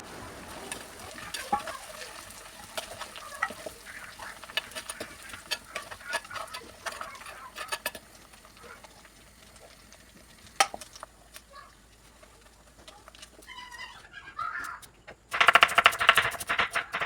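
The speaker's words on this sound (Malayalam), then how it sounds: "ഇപ്പോൾ ഇതാ മാഗ്നേറ്റ് ചെയ്ത് വെച്ചിരിക്കുന്ന ചിക്കൻ ഓരോ പീസസും നല്ലപോലെ ഒന്ന് ഫ്രൈ ചെയ്തെടുക്കലാണ്" Marinated chicken pieces fry in hot coconut oil, giving a steady close crackle and sizzle with scattered ticks and clinks, growing louder and busier toward the end.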